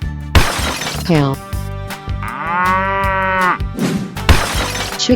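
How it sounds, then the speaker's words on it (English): A cartoon cow in a 3D animal sliding game lets out a long, loud moo amid sharp crashing and breaking effects, with more game sounds before and after. "Cow,"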